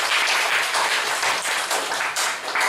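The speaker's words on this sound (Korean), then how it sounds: "우리 박수 한번" A church congregation gives a short, dense burst of applause during a Sunday worship service, with the clapping filling the room alone and without talk.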